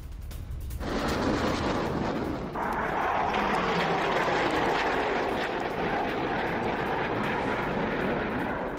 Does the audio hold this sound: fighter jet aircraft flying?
yes